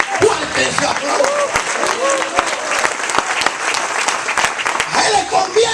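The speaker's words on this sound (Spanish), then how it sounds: "Fuerte ese aplauso." Church congregation applauding during a sermon, loud sustained clapping with sharp individual claps and scattered voices and cheers mixed in.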